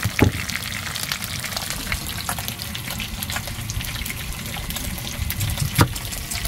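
Steady sizzling and crackling of food frying in a pan, a continuous hiss with occasional sharper pops.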